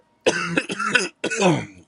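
Two rough, close coughing bursts, the first a longer run of hacking sounds and the second a shorter one after a brief pause, with no talking.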